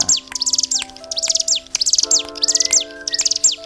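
A small bar-winged prinia chirps in rapid, high repeated bursts, loud and close, with faint whistled tones in the background.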